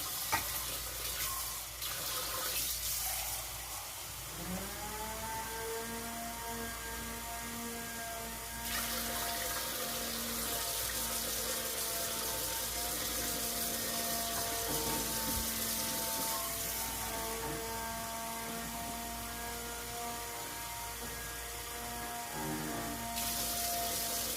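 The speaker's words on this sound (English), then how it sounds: "let's get some water in that pan." Water runs steadily from a tap into a pan, a continuous splashing hiss with a rising tone as the pan fills.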